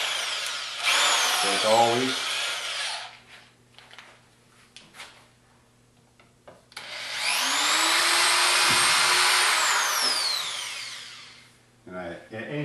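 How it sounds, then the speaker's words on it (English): A power drill whines loudly in two long bursts, pilot drilling marked holes in the mounting for a wind turbine's PMA. Someone speaks briefly between and over the drilling. "we're going to pilot drill them"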